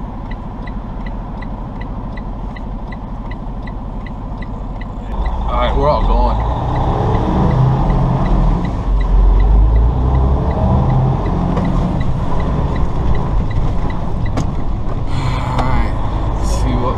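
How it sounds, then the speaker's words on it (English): Road traffic rumbles around a car, a steady low engine and tyre drone that grows louder partway through, with people talking over it. "If we even get into the place, look at all this traffic."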